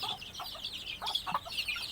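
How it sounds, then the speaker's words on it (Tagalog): Several backyard chickens, panting in summer heat, cluck and chatter close by in short, busy bursts, with no one talking. "hinihingal po lahat ng mga alaga nating manok"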